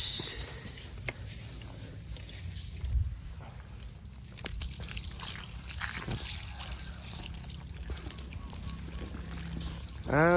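Water splashes and trickles steadily while an elephant is bathed outdoors, with voices speaking now and then over the wet sloshing and a brief louder burst near the end.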